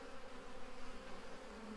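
Honey bees being moved from an original hive into a new Apimaye hive make a steady, close buzzing hum that stays even and unbroken throughout.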